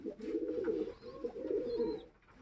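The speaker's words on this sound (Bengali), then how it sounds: "এই যে রেড চেকার একটা মেল, এটা দেখো খুব দুরন্ত" A male red checker racing pigeon coos in low, rolling phrases at close range, two soft bursts across a short moment with faint background chirps.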